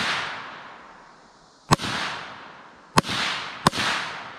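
Three sharp gunshots from a Kriss Vector or PS90 submachine gun crack out at uneven intervals, each followed by a broad echoing decay, over a hissy outdoor background.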